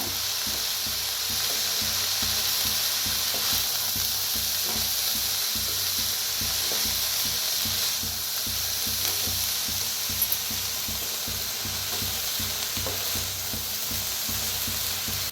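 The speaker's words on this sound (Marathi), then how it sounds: "आता मिक्स करून भाजूया।" Momo filling with carrot is stirred and fried in a pan, giving a steady, loud sizzle with a rhythmic scraping of the spoon through the whole stretch, and no voice is heard.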